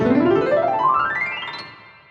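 A single rising run on a Galaxy II classical grand piano, heard from the player's seat with concert hall reverb, climbs from low to high notes and rings out as it fades.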